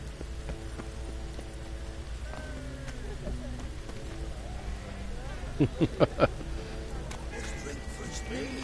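Steady rain hisses across a scene in the video game Witcher 3, a constant wash of noise with a quick burst of sharp knocks near the end.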